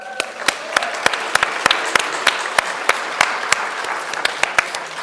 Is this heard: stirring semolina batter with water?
no